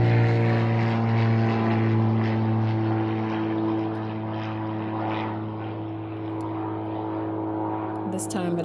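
A propeller airplane passes overhead in daytime, its steady droning engine hum loud and sustained, slowly fading slightly, with no voices.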